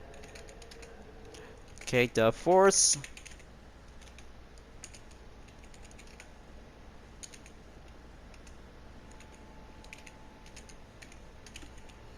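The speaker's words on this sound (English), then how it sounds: "I'm always going to have to do much typing" Computer keyboard typing during a Gran Turismo 7 esports broadcast, with a short burst of clicking keys near the start, then faint intermittent taps under a brief spoken remark.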